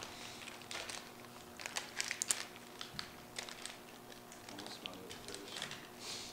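A crinkly gummy candy packet is handled and torn open, giving irregular rustling and crackling bursts up close at modest level amid quiet room noise.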